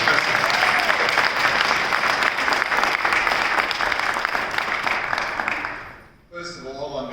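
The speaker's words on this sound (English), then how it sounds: "Let's give a round of applause to our very spirited sister" A congregation in an Air Force base chapel gives a long, loud round of applause that fades out near the end, after which a voice begins speaking.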